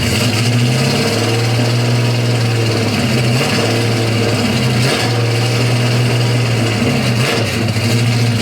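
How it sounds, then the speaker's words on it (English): A Pontiac LeMans with a 455 V8 runs loud and steady as it warms up toward idle, a continuous deep engine drone with slight wavering in pitch, close by and unbroken throughout. "let me get this thing to the point where it's warm enough to idle and be able to drive down the road"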